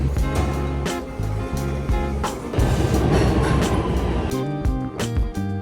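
Chicago train, in the middle of February, carrying riders over to Chinatown: a steady, loud rumble with rhythmic clacking of wheels over rail joints, heard close from inside the car with no talking.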